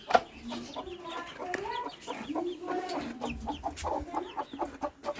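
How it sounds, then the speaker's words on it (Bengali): A hen clucking close by in a quiet coop, a run of short, soft, repeated clucks with a sharper call at the start, under a faint hum of room noise. "তো চলো এবার মুরগিটাকে ছেড়ে দিই"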